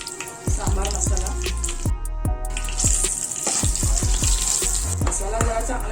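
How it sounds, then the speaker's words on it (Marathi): Sambar masala being stirred and roasted in a pan, loud close sizzling with repeated scraping strokes of a spoon against the pan in a steady rhythm, no talking. "मसाला जरा चांगला ढवळून भाजून घ्यायचा."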